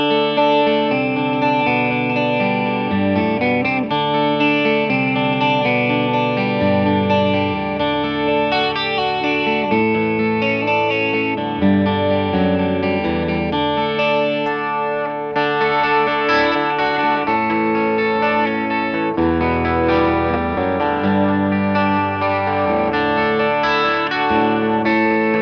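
A PRS Hollowbody II 12-string guitar in McCarty Burst finish plays continuous chords and melodic runs through effects for the whole stretch, with a rich, shimmering, steady tone and no talking.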